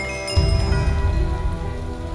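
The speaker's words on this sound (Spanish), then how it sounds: "¡Y dejó de llover!" Rain falls in Minecraft as a steady, dense hiss that continues without pause, with no talking.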